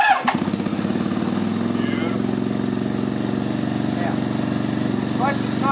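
A Suzuki car's four-cylinder engine cranks and catches, then runs at a steady, rough idle close by, loud and continuous throughout.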